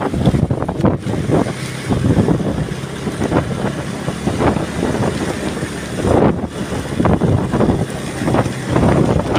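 Strong wind roars and buffets steadily against the microphone in heavy gusts during light rain, with a rumbling low end and no talking.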